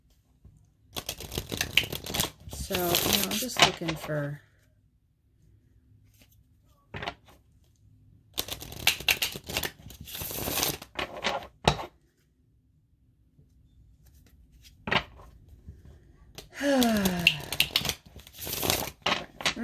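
Tarot cards shuffled by hand in three bursts of dense riffling and slapping, close and fairly loud, with quiet gaps between them and a person talking over parts of the shuffling.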